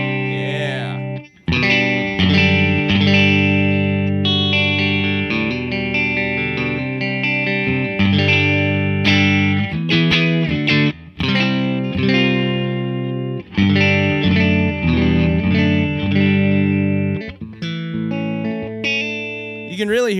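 Electric guitar played through a Matchless amp with an EF86 preamp, run at moderate gain with slight breakup: sustained chords and riffs ring out loudly and continuously with brief pauses, compressed and mildly distorted.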